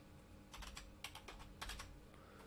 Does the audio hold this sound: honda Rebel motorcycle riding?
no